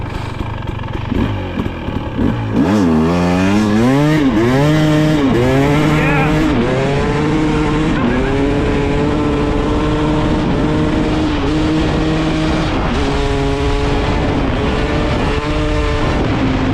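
A 2023 Husqvarna TX300 two-stroke dirt bike engine revs loudly while riding, climbing and dropping in repeated throttle sweeps with a sustained raspy drone.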